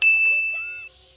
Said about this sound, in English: Sound from magic is just as loud, if not more annoying than Twilight talking.